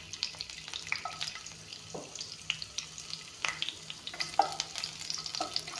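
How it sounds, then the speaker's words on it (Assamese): Garlic frying in hot oil with panch phoron, a soft continuous sizzle with scattered crackles and occasional stirring scrapes, fairly quiet and close. "এইখিনি অলপমান ভাজি ল'ম।"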